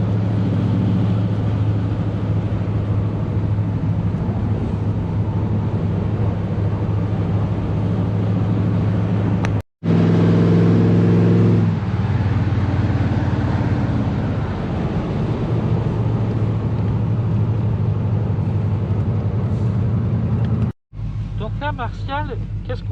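A 1974 Chevrolet Corvette C3 Stingray V8 idles with a steady, deep, loud rumble, briefly swelling partway through, while people talk nearby.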